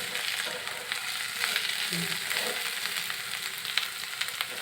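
Ridge gourd and soaked egg frying in a pan while being stirred, a soft continuous sizzle with scattered scraping and clicking of the spatula, fairly quiet and close, with no talking.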